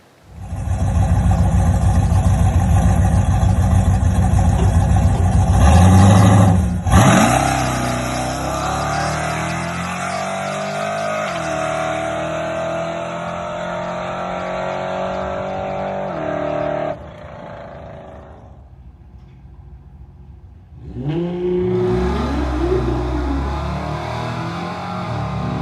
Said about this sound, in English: So as you can see, the truck hooks up pretty good. It launches good. It runs good.